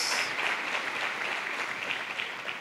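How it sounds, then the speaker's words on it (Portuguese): A church congregation at a Sunday service applauds together in a sustained, even wash of clapping, moderately loud and slightly reverberant, with no voices rising above it. "você pode aplaudir Jesus por isso?"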